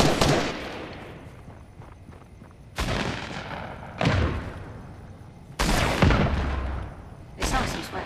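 Shotgun blasts in the video game Fortnite, four or five loud, sharp booming shots spaced a second or two apart, each trailing off in a short decay, with voices talking around them.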